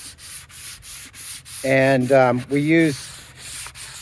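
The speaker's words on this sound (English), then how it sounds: "You can see we're sanding them." Painted cabinet doors are hand-sanded with fine 220-grit sandpaper in close, steady rhythmic rubbing strokes, with someone briefly talking partway through.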